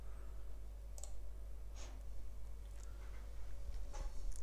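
A computer mouse gives a few sharp, separate clicks spaced about a second apart, close to the microphone, over a low steady electrical hum and no speech.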